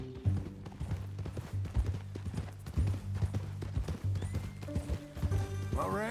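A horse's hooves clip-clop in a steady, close rhythm through Red Dead Redemption 2, with a low rumbling bed underneath and a brief whinny-like sound near the end.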